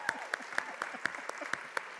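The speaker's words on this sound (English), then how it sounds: "A huge round of applause to have Eric Liu." Conference audience applauding as a speaker is welcomed on stage, the clapping heard as sparse, evenly spaced claps standing out from a softer background wash, fairly close and without speech.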